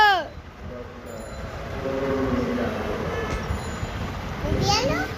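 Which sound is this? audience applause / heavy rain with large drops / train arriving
train arriving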